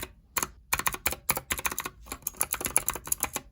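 Fingers type on a mechanical keyboard with clicky switches and white ceramic blank Cherry-profile keycaps, giving a close, rapid, irregular run of sharp clacks with brief pauses.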